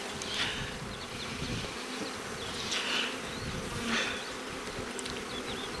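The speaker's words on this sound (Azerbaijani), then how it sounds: "İşçi arılardan çox erkek arılar var." Honeybees in an open hive, many of them drones, make a dense continuous buzz with rising and falling swells, close and alone.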